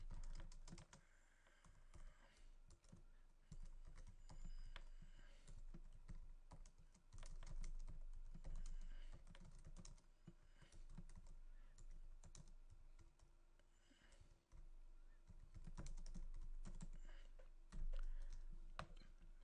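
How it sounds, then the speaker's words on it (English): Steady computer keyboard typing, rapid clicking keystrokes continuing throughout at close range with no speech. "And just start typing away."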